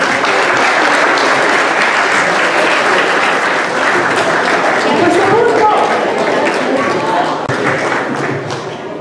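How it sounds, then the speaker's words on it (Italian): Audience at a Christmas evening event applauding, loud sustained clapping with some thumps and crowd murmur mixed in, easing off slightly toward the end. "Un applauso meritato ai due cuori."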